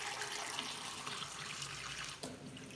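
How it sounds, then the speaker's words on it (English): Water runs from a sink tap into a drinking glass, a steady splashing rush that holds throughout and shifts in tone near the end as the glass fills, close and with no talking. "Switch on the tap. The water's now running, okay? And then I'm going to fill up my glass with water."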